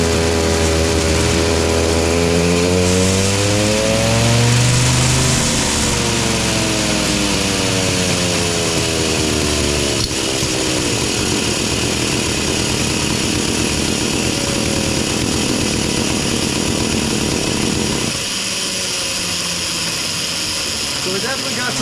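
A Poulan chainsaw, an older saw, revving hard on a dyno pull, a loud sustained engine whine with rising and falling harmonics that drops to a rougher, lower run near the end.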